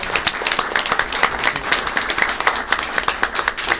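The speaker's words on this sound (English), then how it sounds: "we're going to clap for you" Audience applause at a city council meeting, dense and steady clapping from a room of people across the whole stretch, with individual claps standing out near the front.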